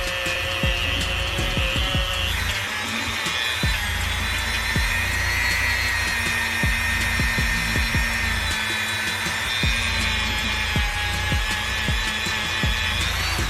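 A power buffer runs steadily at medium speed, polishing a BMW S85 V10 Vanos unit, giving a continuous loud whirring rub with no pauses and no talking.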